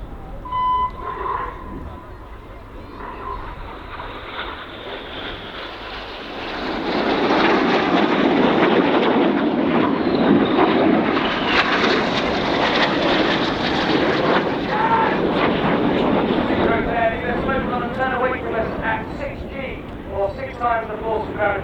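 Red Arrows jets passing at an air show, a building roar that swells loud after a quieter stretch and stays broad and sustained, with crowd or commentary voices mixed underneath.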